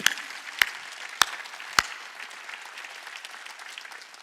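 A congregation at a Wednesday church service claps, opening with four loud, evenly spaced sharp claps before settling into lighter, scattered clapping that fades underneath.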